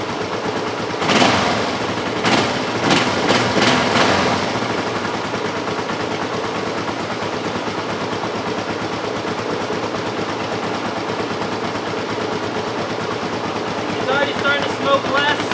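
A Honda CL450 cafe racer motorcycle engine, warmed up and started without choke, fires in a few loud, sharp bursts over the first seconds, then settles into a steady, rough running rumble that continues close by.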